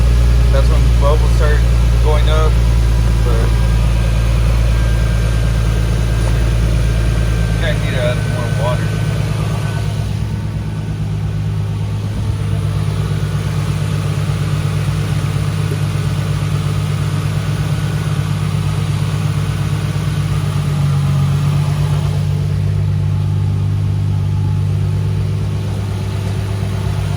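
A Nissan 350Z engine idles steadily just after being started, a constant low hum running throughout with little variation while a person talks over it.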